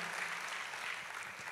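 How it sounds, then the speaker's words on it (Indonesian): A church congregation applauds during a sermon, a steady dense wash of clapping at moderate distance that holds evenly throughout without any voice over it. "tepuk tangannya boleh yang paling meriah buat Yesus Tuhan kita"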